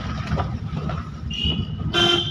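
A car horn honks loudly in two bursts, a shorter one then a longer blast, over busy road traffic rumble.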